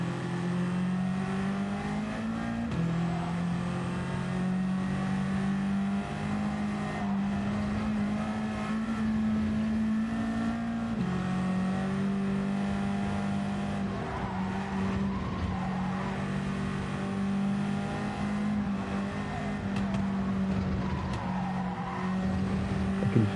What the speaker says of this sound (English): Come on, FK8, come on. Where's my VTEC when I need it?